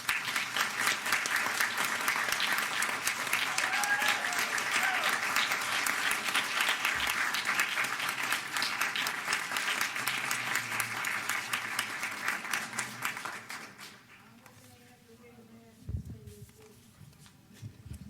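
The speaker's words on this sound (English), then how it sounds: "Can we have another round of applause for the students from Northeast High?" An audience applauds students from Northeast High in Philadelphia, a long, loud wave of clapping that fades after about thirteen seconds into quieter room sound with a brief thump.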